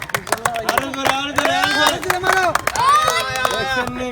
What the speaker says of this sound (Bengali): সবাই মিলে একটা তালি মারতে হইব পয়সা, জোরে করে তালি মারো